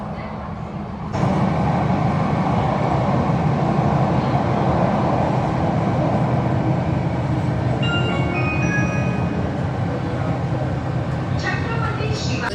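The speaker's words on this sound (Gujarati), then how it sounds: "અહીંયા ટ્રાવેલ આમાં જ કરીએ અંડરગ્રાઉન્ડ મેટ્રોમાં." An underground metro train in Mumbai rumbles loudly and continuously after a sudden start, with rail screeches and a faint chime, and people talking underneath.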